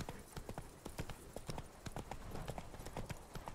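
A horse's hooves clip-clop in a steady walking rhythm in The Witcher 3 video game, the hoofbeats close and fairly loud over a soft ambient background.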